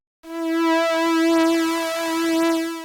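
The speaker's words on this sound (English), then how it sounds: "So it's giving us a natural vibrato effect" A sustained Serum synth note with a gentle, natural-sounding vibrato wavering its pitch, bright harmonic and steady in loudness, starting cleanly after a brief silence and holding alone.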